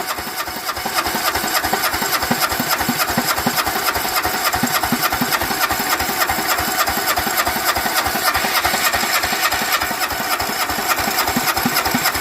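A Kohler Command engine cranks and fires while trying to start, making a fast, steady chugging beat that is loud and close and runs for about twelve seconds without a break.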